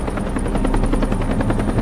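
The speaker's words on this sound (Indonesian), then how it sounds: "Dan tak lama helikopter itu datang menghampiri mereka." A helicopter's rotor thumps steadily and loudly, a fast regular chop over a broad engine roar, close by throughout.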